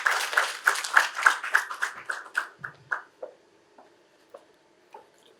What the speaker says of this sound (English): So let's applaud her as she comes to give her speech